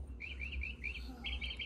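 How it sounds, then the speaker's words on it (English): Birds sing in the city, a quick series of faint, high chirps repeating over a steady low urban hum. "The birds are singing."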